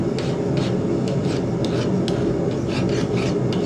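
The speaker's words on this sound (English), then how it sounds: "Now I'm just filing in my edge" A file rasps steadily along the edge of a knife forged from a horseshoe, a close, continuous rhythmic scraping with repeated strokes and no talking.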